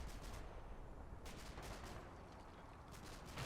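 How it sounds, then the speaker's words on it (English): Distant gunfire crackles through a WWII tank battle in Combat Mission: Final Blitzkrieg near Stavelot, with scattered bursts of shots over a steady rumbling battlefield background, with no talking. "Yeah, something shooting back at that Jackson there"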